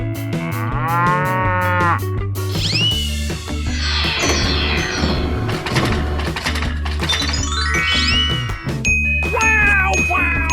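Cattle moo repeatedly in a 3D animal sliding video game, loud drawn-out lowing calls mixed with bright jingling chimes and game sound effects, with no talking.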